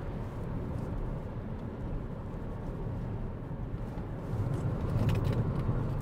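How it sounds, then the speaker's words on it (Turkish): Inside a BYD Atto 3 electric car taken fast through bends, a steady low road and tyre rumble fills the cabin and swells slightly near the end, with no engine note. "Evet, şöyle biraz arabayı atalım virajlara."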